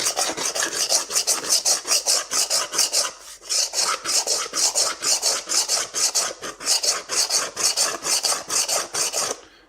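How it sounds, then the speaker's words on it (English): Steady rhythmic rasping strokes of hand-sanding a metal dish, back and forth, close and even, with one short pause partway through. "Do some more sanding."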